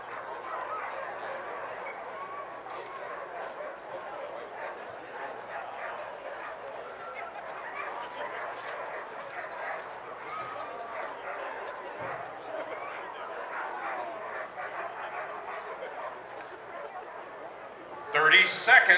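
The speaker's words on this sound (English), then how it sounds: "What you see here today at the starting line of Iditarod 38 are strong, well-trained, and committed sled dogs" Sled dogs yip and bark at the Iditarod 38 starting line in 2010, a steady excited chorus beneath a busy crowd and ongoing talk, with a sharper burst near the end.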